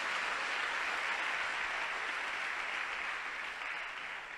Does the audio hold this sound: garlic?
no